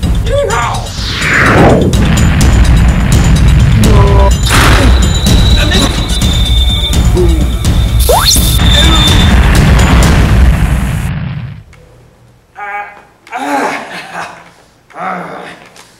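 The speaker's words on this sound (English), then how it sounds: "Ooh, fireworks." Loud fireworks boom and crackle densely for about ten seconds, a thick continuous barrage of bangs with a few sharp whistling streaks, then drop off to scattered fainter pops with brief quiet gaps.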